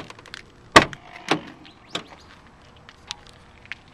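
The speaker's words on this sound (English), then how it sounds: "Open this rear hatch up." Rear hatch doors of a 2005 GMC Safari van swing open, a sharp latch clunk followed by a second thud and lighter rattles and clicks, close and alone.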